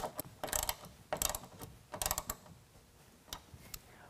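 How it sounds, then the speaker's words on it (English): A half-inch ratchet tightens the bolts on rack uprights of an Elevate rack system fitted with a tonneau cover on a 2022 Ford Maverick. It clicks in several quick bursts of ratcheting with short pauses between them, close and fairly quiet, with no talk. "We're using a half inch ratchet for this."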